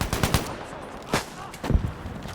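A scoped rifle fires in the video game Battlefield V, with several sharp, close gunshots in quick clusters and a few separate cracks, loud against a busy battle background.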